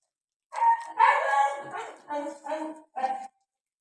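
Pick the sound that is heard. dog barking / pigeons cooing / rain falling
dog barking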